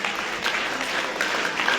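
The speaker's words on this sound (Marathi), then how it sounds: "शाळेबद्दल टाळ्या वाजवा" An audience applauds a school at a public function in Devani, with dense, steady clapping from a crowd that holds an even level for the whole moment.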